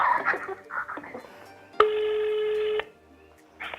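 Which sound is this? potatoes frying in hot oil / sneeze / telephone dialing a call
telephone dialing a call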